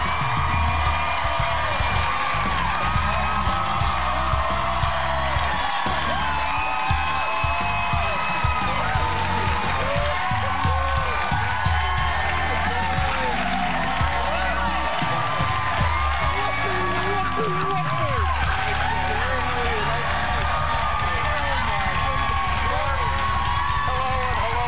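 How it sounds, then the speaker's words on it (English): A live studio audience on a daytime talk show applauds and cheers for David Letterman, with dense, loud clapping and whooping that carries on unbroken for about twenty-five seconds. "Applause"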